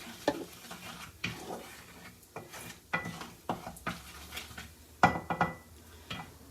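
Asafoetida and cumin seeds frying in a pan, heard as repeated metallic clinks and scraping of a utensil against the cookware over a faint sizzle, with irregular knocks through the clip.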